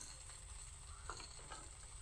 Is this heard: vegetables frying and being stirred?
yes